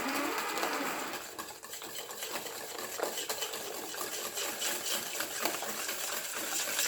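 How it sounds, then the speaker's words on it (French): Hand whisk beating a strawberry mousse mixture hard in a bowl, a dense, continuous rapid scraping and swishing of wire against the bowl, close and steady for the whole stretch. "on mélange très fort hein, avec le fouet"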